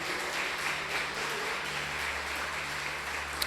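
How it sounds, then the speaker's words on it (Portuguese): Church congregation applauding, a soft, steady clapping wash heard at a distance over a low hum, with no voices. "Você que crê, aplauda Ele em nome de Jesus."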